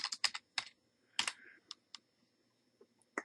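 Computer keyboard keys tapped to type a short file name into a save dialog, a few quick irregular bursts of clicks with pauses, close and fairly quiet in a still room.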